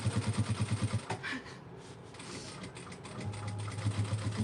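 A sewing machine top-stitches an up-cycled Gucci bag, running in a close, rapid rhythmic chatter, pausing briefly in the middle, then starting again at a steady pace.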